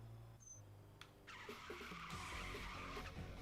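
Handbrake skid in the racing game Tokyo Xtreme Racer 2025: a car's tires squeal in a sustained, loud screech for about two seconds over a steady engine drone, with no talking.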